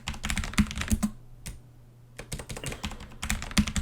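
Rapid clacking keystrokes on a computer keyboard come in quick bursts with one brief pause, close and clear, while code is typed, with no talking.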